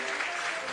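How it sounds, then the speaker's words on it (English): Spectators clap steadily at a junior athletics championships long jump, a dense, continuous wash of applause from a crowd filling the short moment without a break. "Let's get those claps."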